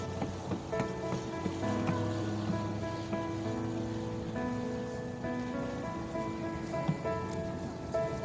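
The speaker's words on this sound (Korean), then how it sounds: "파도가 부서지죠?" Waves break and wash against a rocky shore on Odongdo island, a steady, moderately distant surf over a busy outdoor background with a faint tonal hum.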